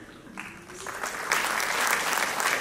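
Audience applause at an Independence Day celebration held at Baba Saheb Ambedkar Medical College & Hospital, starting as scattered claps and swelling into steady, dense clapping from a large crowd that carries on to the end.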